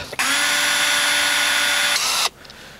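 A power drill with a large bit bores into a box, giving one loud, steady whine of about two seconds that starts and stops abruptly.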